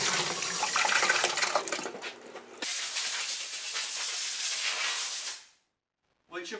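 Water spraying and rinsing over a metal car control arm on a 1976 Mazda RX-5 Cosmo restoration, a steady loud hiss that shifts once, then stops and briefly resumes.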